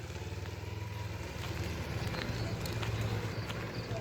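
A mini Ninja motorcycle on a first riding lesson putters along at low speed in a steady, moderately distant drone that swells slightly as it moves around the turn.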